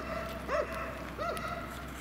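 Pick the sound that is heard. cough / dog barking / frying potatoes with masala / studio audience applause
dog barking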